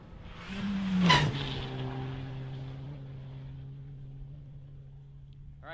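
Rally cars racing through the Boyd Loop jump, an engine roaring past close by and peaking with a sharp whine, then fading into a steady drone as it speeds away.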